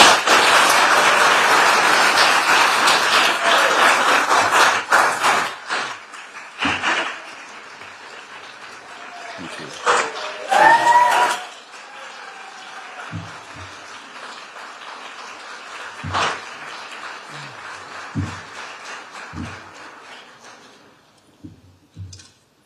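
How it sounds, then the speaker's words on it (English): Audience applause at an environmental justice symposium, a dense burst of clapping for the first five seconds that thins into scattered claps and gaps, with a short loud sound midway and faint sounds toward the end. "Let's give Mr. Grosso another big round of applause."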